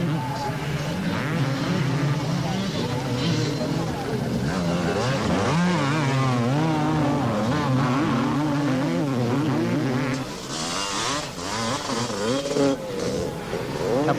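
Motocross motorcycles racing at a 1986 event, several engines snarling and whining together at high revs, rising and falling as the bikes pass, steady and loud throughout with a brief dip near the end.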